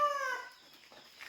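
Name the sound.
chickens clucking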